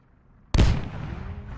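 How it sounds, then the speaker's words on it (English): A tank cannon firing in the military video game Squad: one sudden loud blast that cuts through near silence, followed by a long rumbling tail that keeps ringing to the end. "That's a tank shooting at you from the east."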